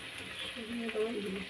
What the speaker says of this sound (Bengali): আর এখন আমি সেই তালের বড়াটাকে কড়াইয়ে ছাড়া হচ্ছে